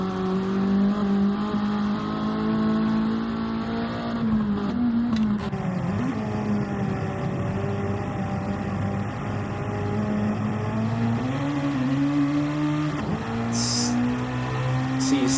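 DTM Legends race cars, Mercedes and BMW, at the Nürburgring, a steady loud engine drone with pitch sweeping down under hard braking toward the Carousel, then climbing again as the cars accelerate, heard continuously at close range.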